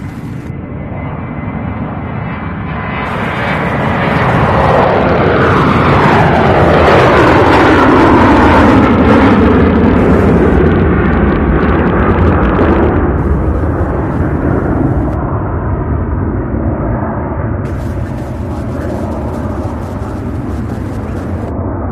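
An MD-83 jet airliner takes off from Louisville SDF at the UPS Worldport, its engines swelling into a loud, broad roar with a sweeping pitch shift as it passes close by, then fading slowly into a distant rumble as it climbs.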